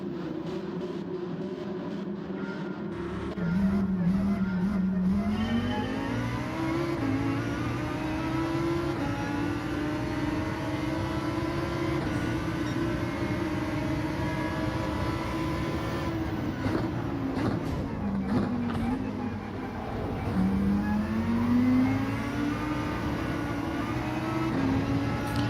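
Lamborghini Huracán Gr.3 race car in Gran Turismo 7 at Interlagos, its engine droning steadily with pitch rising and falling through gear changes, loud and continuous for the whole stretch with no talk over it.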